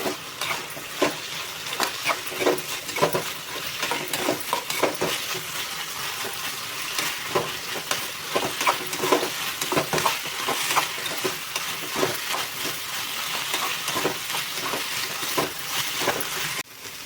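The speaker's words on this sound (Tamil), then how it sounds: "1 நிமிஷத்துக்கு புடலங்காயை அப்படியே எண்ணெயிலே வணக்கிக்கோங்க." Chopped snake gourd sautés in oil in a pan with a steady close sizzle, punctuated throughout by frequent scraping and clacking strokes as it is stirred.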